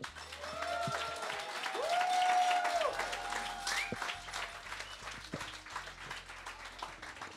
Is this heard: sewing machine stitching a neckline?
no